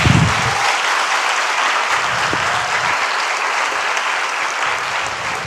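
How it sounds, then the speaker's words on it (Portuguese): A church congregation claps in sustained, loud applause that carries on steadily without pause. "Aplauda Jesus"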